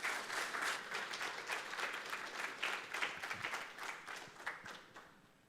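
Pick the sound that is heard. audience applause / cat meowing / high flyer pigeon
audience applause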